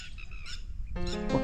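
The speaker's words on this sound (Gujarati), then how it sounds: "પક્ષીઓ બોલી રહ્યા છે" Birds chirping in quick, high tweets near an old stepwell in Jhalawad, Gujarat, with a busier burst of calls near the end against a steady outdoor background.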